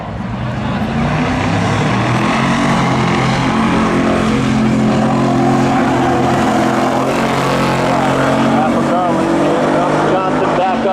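A 1986 Camaro drag races at Seekonk Speedway spectator drags, its engine roaring loud and sustained under a track announcer's fast commentary.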